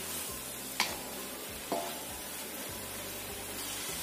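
Mustard greens, bean sprouts and egg stir-frying for longevity mie goreng, a steady close sizzle with a couple of sharp utensil scrapes against the pan, no talk.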